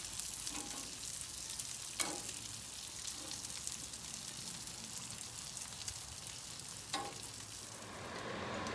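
Sliced Italian sausages fry in a big pan, filling the space with a dense, crackling sizzle that runs without pause, a few sharper pops and utensil knocks breaking through near the start and again later.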